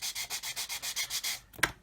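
Sanding stick rubbed over a plastic model kit part, a Revell 1/144 Apollo Saturn V, in about ten steady back-and-forth strokes, close and clear, ending with a sharper tap or scrape.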